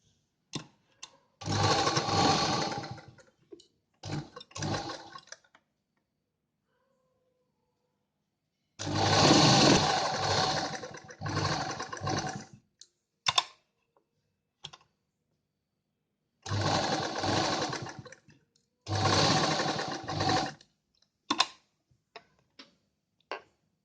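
A sewing machine stitches the side seam of an A-line kurta in several fast, rattling bursts of a few seconds each, separated by silent pauses and scattered light clicks.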